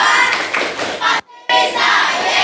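A class of schoolchildren claps a patterned rhythm together, loud bursts of hands broken by a short pause, with young voices mixed in.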